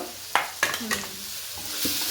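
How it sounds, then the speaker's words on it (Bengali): Onions fry in a pan with a steady, soft sizzle, punctuated by a few sharp scrapes and knocks as they are stirred. "এবার পেঁয়াজগুলো ভাজা ভাজা হোক একটু"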